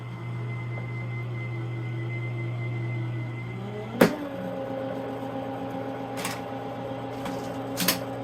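A die cutting machine runs on paper towels with a steady electric hum, then gives a sharp clack halfway through, followed by lighter clicks as it keeps working.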